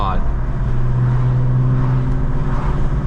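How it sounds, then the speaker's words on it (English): Cabin sound of a 1994 Volkswagen Corrado SLC VR6 engine cruising along, a steady low droning hum with a slight rise in pitch, heard from inside the car. "I love the VR6. It's one of my favorite sounding V6 engines."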